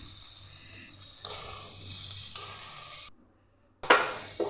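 Tomatoes, ginger and chili paste frying in a pan, a soft steady sizzle with stirring scrapes, then a short near-silent gap before a sharper burst of sizzling as tomato hits the oil.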